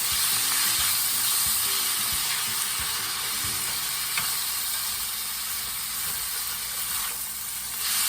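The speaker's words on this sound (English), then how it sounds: "I'm going to mix it all together and add in my onions to the meat." Onions mixed into meat frying in a pan give off a loud, steady sizzle with bubbling hiss, and faint scraping stirs run underneath throughout.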